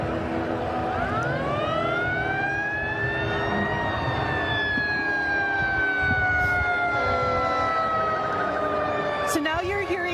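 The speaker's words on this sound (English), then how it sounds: "So now you're hearing sirens from the Buffalo Fire Department." Buffalo Fire Department fire truck sirens wail along Broadway during a Dyngus Day parade, a loud rising and falling siren tone over crowd noise and traffic rumble, with a brief horn blast near the end.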